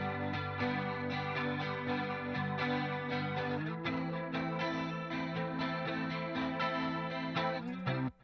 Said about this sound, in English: this has got to be my favourite Logic guitar sound